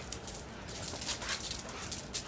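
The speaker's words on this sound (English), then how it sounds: "Very, very playful, fun dogs." Playful dogs heard close with a soft, high whimpering and whining in short continuous bursts over a noisy, fairly quiet background.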